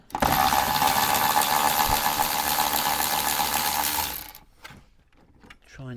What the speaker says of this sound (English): 10mm two bolts to take out